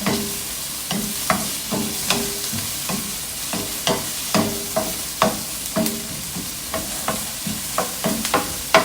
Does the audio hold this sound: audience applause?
no